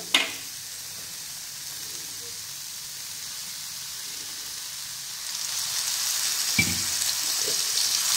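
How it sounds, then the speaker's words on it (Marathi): Ridge gourd roasts in a little oil in a pan, giving a steady close sizzle that swells louder toward the end, with a brief clatter at the start and another near the close, no talking. "त्यामध्ये पुन्हा थोडंसं तेल टाकून तो चांगला भाजून घ्यायचा"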